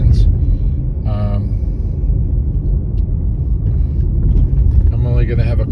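A car being driven in northeast Georgia, a steady low engine and road rumble from inside the cabin, continuous and fairly loud, with brief voices over it.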